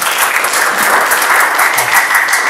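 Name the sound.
applause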